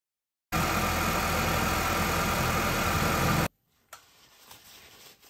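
A GMC Terrain or Chevy Equinox engine, freshly refilled with 5 quarts of oil, idles steadily and fairly loud for about three seconds, then cuts off abruptly, leaving faint background noise and a few soft knocks.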